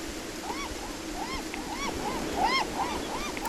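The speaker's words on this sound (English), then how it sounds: "Suddenly overrun with seagulls." Seagulls calling repeatedly in the game Beyond Eyes, a flock of overlapping squawks over a soft wash of waves and wind, moderately faint.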